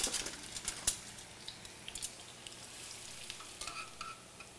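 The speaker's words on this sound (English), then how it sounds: "Heat it up. You add the shallots." Shallots frying in hot oil, a soft, faint sizzle with scattered light crackles and pops, quieter toward the end, no voices.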